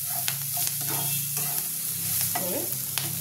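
Cubed tomatoes are stirred in a frying pan for an egg chilli dish, a soft steady sizzle broken by several clicking spatula scrapes against the pan, near and fairly quiet, no talking.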